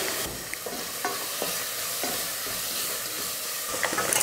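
Food sizzles and fries steadily in a hot pan, with a few soft scraping stirs breaking through the constant crackle.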